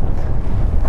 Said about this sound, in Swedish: Det är väder och vind.